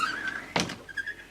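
A stateroom door shuts aboard a 1999 Sea Ray 460 Sundancer boat, giving one short, fairly loud thud or slide-bump near the middle, with a faint high tone and light background noise around it and no talk.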